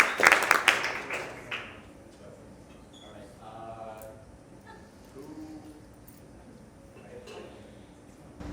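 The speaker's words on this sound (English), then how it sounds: "Everybody give Eric and Rule 5 a round of applause." Startup pitch event audience claps for a presenter in a burst of loud applause that dies away within about two seconds, followed by quiet room noise with scattered faint sounds.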